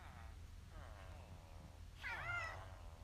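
A cat meows several times in a room where someone is playing Minecraft Bedrock Edition. Two softer calls are followed by a louder, longer one near the end, over low background hum.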